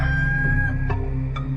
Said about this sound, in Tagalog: siya namang pagtilaok ng manok